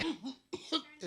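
A person coughing three times in quick, harsh bursts separated by brief pauses, close to the microphone with no other sound.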